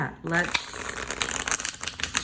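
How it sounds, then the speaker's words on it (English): Quick papery riffling and flicking of a deck of tarot cards being shuffled, a burst of soft rapid clicks, close by. "shuffle and draw 2 cards"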